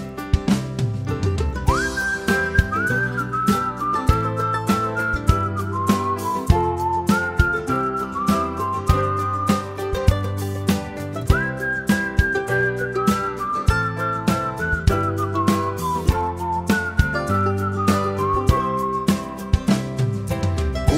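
A farmer whistles a bright, lilting tune through a Finnish children's song, the whistled melody riding on top of steady rhythmic musical backing throughout.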